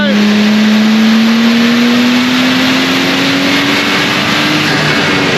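A VL Turbo car engine revs hard on a dyno, one long loud pull with the pitch climbing steadily throughout, while voices talk over the roar.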